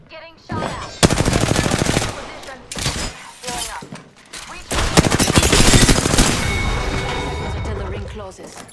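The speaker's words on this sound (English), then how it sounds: "They're shooting at me. Getting shot at." Gunfire in Apex Legends on King's Canyon: repeated loud bursts of rapid automatic fire with brief gaps, shattering impact sounds, and a long sustained volley near the end, while a voice talks over parts of it.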